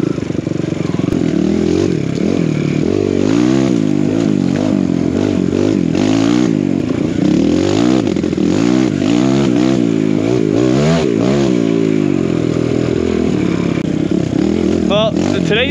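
An enduro dirt bike ridden along a wet trail, the engine loud and close throughout, revving up and down in repeated swells with rattling clatter, and a rider's voice breaking in now and then.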